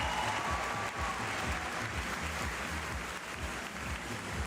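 Steady, even audience applause for the top three swimmers at the Berlin evening finals of the 2023 World Aquatics Swimming World Cup, a sustained roar of clapping from a large crowd.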